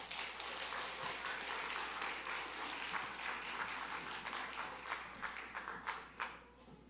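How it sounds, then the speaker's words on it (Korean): Church congregation applauding to welcome a missionary preacher to the front, steady dense clapping filling the room for several seconds with a few sharper claps near the end, no talking over it. "박수로 맞이하겠습니다."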